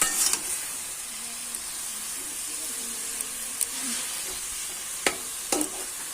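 Bottle gourd greens sizzling in a pan, a continuous hissing fry with a few sharp clicks of a spatula against the pan, close and steady, with no voices.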